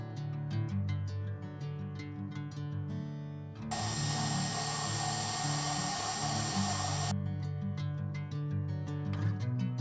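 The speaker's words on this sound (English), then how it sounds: "Carefully drill out the factory rivets." A power drill whirs loudly for several seconds in the middle, drilling out factory rivets on a Dell OptiPlex 3060 computer case, surrounded by an engine-like hum and scattered clicks.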